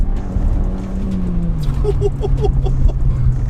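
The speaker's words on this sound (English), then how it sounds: "It is lighting up in third gear, tugging us around the bends." VW Golf GTI Edition 30 with a manual gearbox and high mileage, accelerating in third gear: a steady engine drone with a rising tone heard from inside the car, while a person talks over it.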